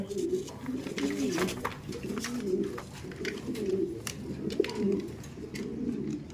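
A pair of black Mundian pigeons coo repeatedly, soft throaty rolling calls in a loose rhythm, close by with some background clatter.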